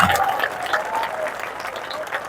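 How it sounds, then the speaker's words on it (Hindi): A crowd applauds at a Jan Suraaj Party political rally in Bihar, a short, dense burst of clapping at moderate volume with voices mixed in underneath. "जोर से बजाइए ताली।"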